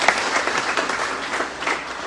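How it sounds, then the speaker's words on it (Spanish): Dense applause from a sizable crowd, steady and fairly loud throughout the short stretch, with no voices standing out. "Vamos a darle un fuerte aplauso"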